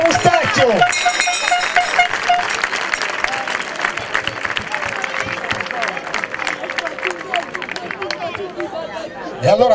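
An audience at the Ascoli Picchio first-team presentation applauds footballer Mattia Mustacchio. Loud, dense clapping runs throughout with cheering and crowd chatter mixed in, and music briefly plays at the start.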